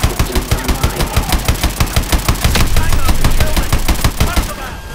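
Main guns fire in Call of Duty: Advanced Warfare: a loud, rapid stream of evenly spaced shots, close and punchy, that blurs into a denser roar near the end before cutting off.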